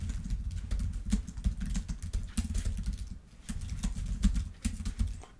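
Rapid typing on a computer keyboard, close and clear, with dense irregular key clicks running throughout and a short pause about halfway.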